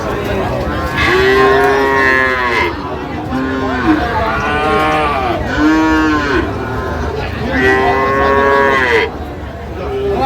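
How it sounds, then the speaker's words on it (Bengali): Sahiwal bull calves at a cattle market in Chuadanga, Bangladesh, give several loud, close, drawn-out moos one after another over a low background murmur. "শাহিওয়ালার বাচ্চা"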